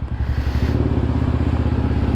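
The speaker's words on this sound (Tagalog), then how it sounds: "At ito yung baon nating motor, bagong kuha natin to, Suzuki Bergman." A Suzuki Burgman scooter engine runs steadily at idle, a loud, close, even putter with a regular pulsing rhythm.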